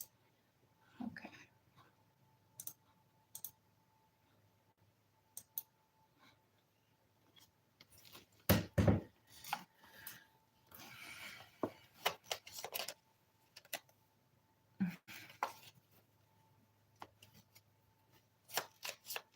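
Tarot cards being shuffled by hand, quiet rustling and sharp irregular riffles and taps in scattered bursts, close and soft, with no talking.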